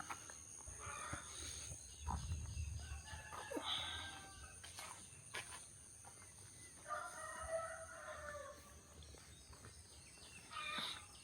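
Roosters crow and hens cluck outdoors at a moderate distance in rural coastal Konkan, India, over a steady background hum, with several calls spread across the stretch.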